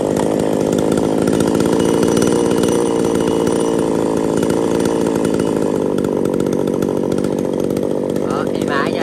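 A Japanese-market used chainsaw engine, loud and close, runs at a steady, rough idle with constant buzzing throughout and no clear revving changes.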